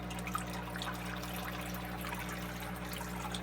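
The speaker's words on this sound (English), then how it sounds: "the water goes up through the tubing, drips down, some in little streams, some are drips, some are slow drips." Water drips and trickles down through tubing in a homemade rain chamber, a soft, continuous, faint liquid patter over a low hum, with no talk.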